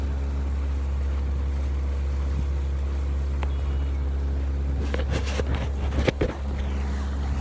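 A boat motors across the water in the evening, its engine a constant low hum, with a few sharp knocks and splashy bursts near the end.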